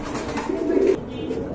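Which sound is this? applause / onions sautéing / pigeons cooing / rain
pigeons cooing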